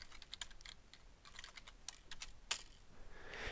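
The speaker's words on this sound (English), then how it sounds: "type a message in the field at the bottom of the chat window and hit send" Quick, faint clicking of keys on a computer keyboard as a chat message is typed, irregular taps and bursts with a slightly louder keystroke near the end, no voices.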